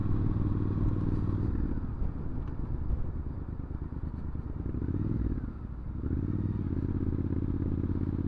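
A Triumph Scrambler 900 motorcycle exhaust drones steadily while riding on a cold, dry January day, a deep continuous rumble with a brief dip in revs near the end, close and loud against faint wind.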